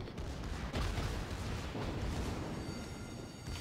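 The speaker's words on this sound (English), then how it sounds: "He's firing HE now, too." High-explosive shell fire from a tank in a video game, rendered as a low, rumbling boom that swells into a continuous dense roar and lingers with noisy reverberation, moderately loud with no voices.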